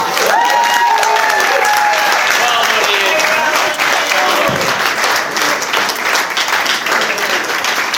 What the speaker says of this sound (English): Please keep that applause going for that amazing speech.